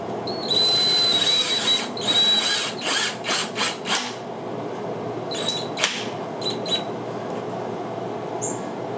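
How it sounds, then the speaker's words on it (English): A power drill whirs in several short bursts, driving a screw into cedar wood for a planter with pauses between, close by and fairly loud. "And drill it straight in."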